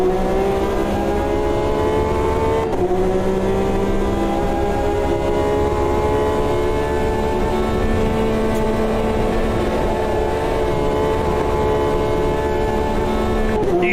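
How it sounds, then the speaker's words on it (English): A Porsche race car engine in the AMS2 racing game revs hard and continuously, loud and near, with rising and falling harmonic whine through gear changes and a brief dip early on. "Use all them Porsche revs."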